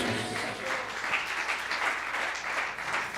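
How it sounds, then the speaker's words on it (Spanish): A church congregation applauds in a dense, steady wash of clapping that swells and holds for a few seconds, with no voice over it. "Si ese aplauso es para Jesús, démoselo más fuerte, hermanos"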